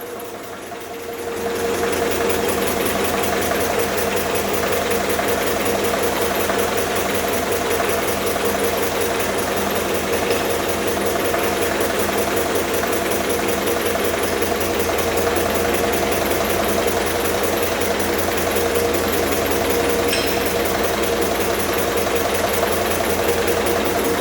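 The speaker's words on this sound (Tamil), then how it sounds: "ஸோ இன்ஜின் மறுபடியும் ஸ்டார்ட் ஆயிடுச்சு." An IC engine on a test rig running under load during a retardation test, a loud, steady, rapid mechanical chugging and knocking that starts up near the beginning and holds evenly throughout.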